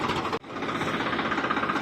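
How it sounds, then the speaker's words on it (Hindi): A tractor engine runs steadily in a millet field during harvest, a loud continuous rumble with a rhythmic pulsing beat after a brief cut near the start, no voices. "तो मिलते हैं बाजरी के अंदर जाके, क्योंकि ट्रैक्टर चल दिया है"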